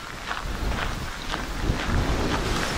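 Blustery wind buffets the microphone beside Opossum Lake, a constant loud rumble with gusty surges and no voices.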